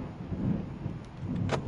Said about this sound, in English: That's thunder outside my house